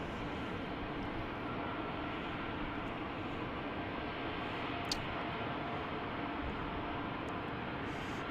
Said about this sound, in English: Now we got a 737 heading to runway 34 right